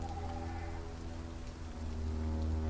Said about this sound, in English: Nope, just raindrops.